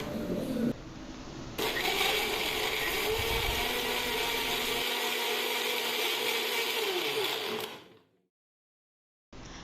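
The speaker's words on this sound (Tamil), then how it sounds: "நான் வந்து மிக்ஸி ஜாரில் வந்து சுத்த விட்டுக்கிறேன்" A mixer jar whirs loudly as it churns cold milk cream with ice cubes to make butter, a steady grinding buzz for several seconds before cutting off, then a brief restart.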